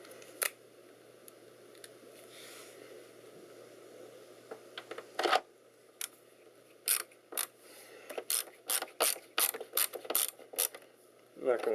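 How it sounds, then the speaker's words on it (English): A big screwdriver drives a screw into the screen hinge of a Compaq SLT/286 laptop, giving a series of short, sharp clicking ratchet turns with pauses, sparse at first and then rapid and rhythmic. The sound is close and fairly quiet, with no talking. "I can screw the screen back in safely. Here's a big screwdriver."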